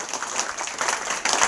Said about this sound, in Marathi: यासाठी या दोघांच्यासाठी जोरदार टाळ्या झाल्या पाहिजेत